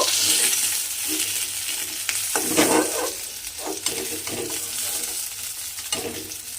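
Fish frying in oil in a pan, a bright steady sizzle with bursts of louder crackling and a few clinks and scrapes as pieces are turned or lifted, close by.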